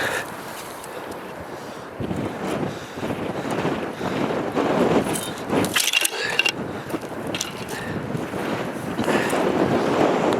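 A four-wheel-drive vehicle labours up soft sand at Spurn Point, its engine roaring steadily under heavy wind buffeting the microphone, the effort swelling louder toward the end of the climb.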